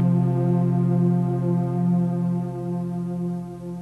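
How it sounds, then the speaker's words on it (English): A blower supplying air to neon glass-bending torches drones continuously with a steady low-pitched hum and strong harmonic overtones, loud and unbroken with no voices. "That noise you hear in the background is our blower."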